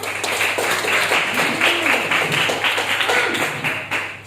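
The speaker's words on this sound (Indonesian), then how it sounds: "Tepuk tangan dong yang lain untuk teman-temannya." Dense, steady clapping from a class of students, sustained for several seconds with slightly uneven rhythm, filling the classroom at moderate loudness.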